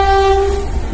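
A cartoon-style sound effect of a train arriving: a brief, loud, sustained horn blast over a low rumbling rail roar.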